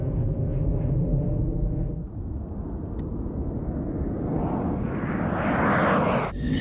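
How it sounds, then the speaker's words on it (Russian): An airplane engine roars during a low pass over a runway, loud at first, then a rising, swelling whoosh as the aircraft sweeps past before cutting off abruptly. "самолет проходит над взлетной полосой на небольшой высоте, но не приземляется"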